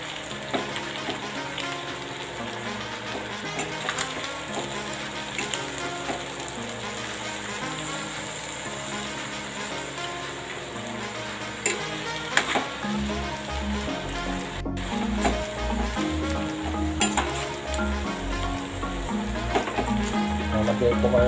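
Chopsuey vegetables with quail eggs stirred and sizzling in a hot pan, a steady dense frying crackle with occasional scraping and clatter throughout, close and fairly loud, with no talking.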